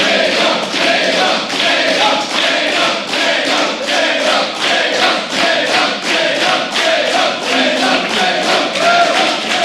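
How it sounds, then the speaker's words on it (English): A large esports arena crowd in Cologne, Germany cheers and chants in rhythmic pulses for StarCraft 2 player Jaedong, loud and steady throughout. "as you can hear, the crowd already behind Jaedong."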